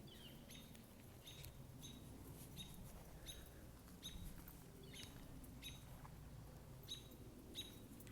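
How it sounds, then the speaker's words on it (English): A little bird chirps along a woodland trail, quick high tweets repeating in short bursts every second or so, faint and a bit distant over soft outdoor rustle and low background noise. "There's a little bird chirping."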